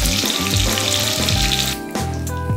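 A fish head fries in hot oil, giving a loud, continuous crackling sizzle close up that dips briefly near the end before carrying on.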